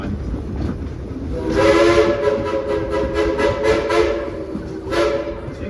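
A train runs with a steady rumble under repeated horn blasts, a long blast followed by a string of short rhythmic toots and one more blast near the end, loud and close.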